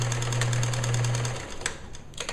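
A sewing machine stitches lace onto a girl's gown in a fast, buzzing run that stops after about a second and a half, followed by a few faint clicks and handling noises.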